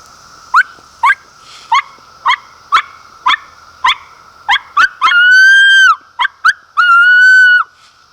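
ESH Custom Calls predator call blown to imitate a coyote pup in distress: a run of sharp rhythmic yips, then two longer drawn-out wavering howl notes broken by more yips, loud and close.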